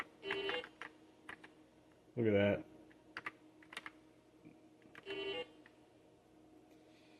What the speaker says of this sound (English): It's not clicky mechanical keys.